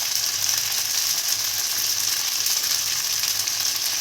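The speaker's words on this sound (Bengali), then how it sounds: "সব হাফ চা চামচ হলুদ দিয়ে একটু সময় ভেজে নেব" Sweet potato pieces frying in oil with turmeric make a steady, close sizzle that holds evenly throughout with no talking.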